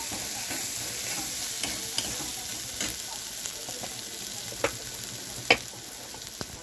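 Tomato and spices fried in a pan with turmeric, chili, coriander and cumin powders, a constant sizzle broken by irregular scraping stirs and a sharp clink of the spoon near the end, no talking.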